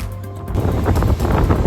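Ocean surf washing beneath the pier at South Pointe, Miami Beach, on the Atlantic: a steady, broad rush of water and wind that swells a little louder midway and keeps going with no voices.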